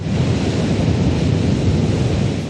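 A water deluge sound suppression system is tested at Launch Pad 39B at Kennedy Space Center, releasing about 450,000 gallons of water in a loud, steady, dense rushing roar that continues without a break.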